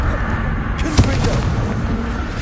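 A Confringo blasting spell explodes in Hogwarts Legacy on PS5, a sharp burst landing amid a rumbling, busy combat soundscape with other thuds and crackles around it.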